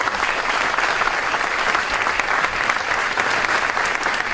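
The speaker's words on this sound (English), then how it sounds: "So how about a round of applause for our panel?" Sustained audience applause for a panel at a university success summit, dense and steady clapping from a large crowd throughout, with no speech over it.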